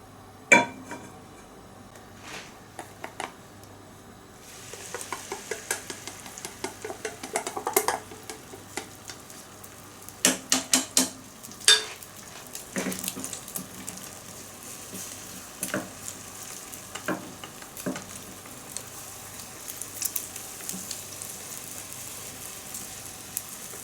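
Sesame oil heating in a frying pan for tenshinhan: a quiet sizzle with soft stirring, clinks of utensils against the pan and scattered sharp taps of cookware, steady and fairly close throughout.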